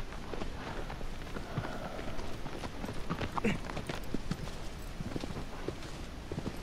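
Horse hooves clip-clop at a steady pace in the video game Shadow of the Colossus, a rhythm of close, crisp beats heard over continuous ambient game sound and no speech.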